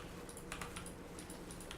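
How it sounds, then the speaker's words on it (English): Computer keyboard beside the microphone clatters with quick, irregular key clicks, close but fairly quiet, with no one talking. "My mouse is so loud. Sorry, it's probably my keyboard."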